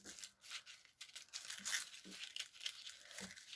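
Soft crinkling and tearing of thin tissue paper being peeled, a quiet rustly texture with a few sharper rips, close by and faint.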